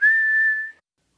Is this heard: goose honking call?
no